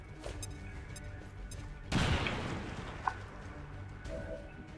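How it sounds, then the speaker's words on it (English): Grenade blast in XCOM 2, a single booming explosion that bursts out and rumbles away over a second or two, with smaller game sounds around it. "Grenade will do."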